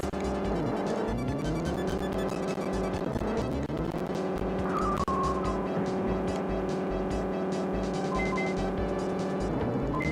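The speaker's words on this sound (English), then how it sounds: "Car crashed ahead." Engine drone and tire squeal from a SNES prototype racing game, loud and continuous, with a skid and sharp crash-like hits over synthesized music.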